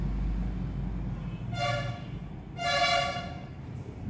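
Train sounds from a news item on rail traffic disrupted in four states by a farmers' protest: a steady rumble of railway movement with two harmonic horn toots, one short and one longer, fairly close, with no talk.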